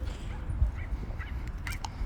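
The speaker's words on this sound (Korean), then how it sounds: "저쪽에 개소리 난다." A dog outdoors near a bridge gives faint, distant yips and short barks over a low rumbling background, scattered irregularly rather than in a steady run.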